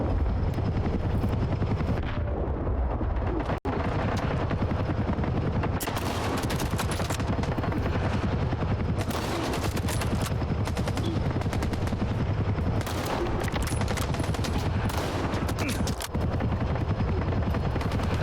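Sustained gunfire and a helicopter's drone in S.T.A.L.K.E.R. 2: Heart of Chornobyl during the assault on the Duga, with dense, continuous automatic bursts over a loud, steady rotor rumble and no talk.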